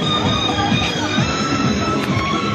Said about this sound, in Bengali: খুব সুন্দরভাবে এখানে দেখুন ছোটো টায়ারের মধ্যে কীভাবে যাচ্ছে টয় ট্রেনটা।